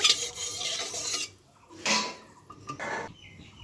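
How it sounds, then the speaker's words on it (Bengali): Lentil paste dropped into hot oil in a wok and frying: a bright, hissing sizzle that fades, then returns in short bursts as more portions go in, close and moderately loud, with no talking. "এখন আমি তেলের মধ্যে দিয়ে দেব"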